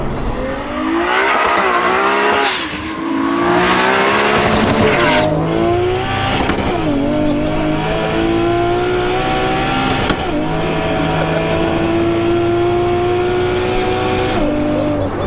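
A Toyota 1JZ straight-six swapped into a Nissan S13 with an M4 DCT gearbox revs and accelerates hard, with repeated loud rising sweeps and quick shifts, close and sustained with no talk.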